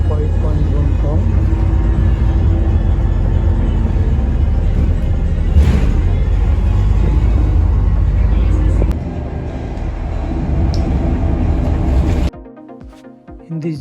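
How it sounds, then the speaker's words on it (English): Small local bus, number 19, near Llandudno in Wales, pulling in with a loud idling diesel rumble that drops off near the end, heard under someone talking. "Bus is coming. That is the bus. Bus number 19."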